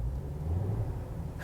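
A cheap Jeep's engine idles with a low, steady rumble as it is shifted into gear, close and continuous for a moment with no talking.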